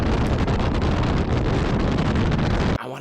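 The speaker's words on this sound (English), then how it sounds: "The rain stopped, but it's just cold and windy" Strong cold wind roars steadily across the microphone for about three seconds, loud and buffeting, then drops away abruptly.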